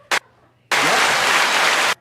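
An applause button triggers a canned applause sound effect: a short click, then a loud, steady burst of crowd clapping lasting just over a second and cutting off abruptly.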